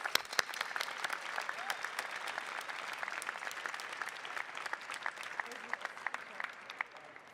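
Steady round of audience applause for information technology master's graduates at a university hooding and diploma ceremony, moderately loud dense clapping with a few sharper nearby claps.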